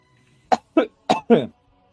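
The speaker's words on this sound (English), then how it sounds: "I'm coughing to death" Four sharp coughs in quick succession, close and fairly loud, with short gaps between them and silence before and after.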